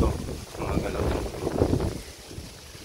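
Strong wind at sea roars and buffets the microphone in a continuous, heavy rush with low rumbling gusts, close and loud throughout.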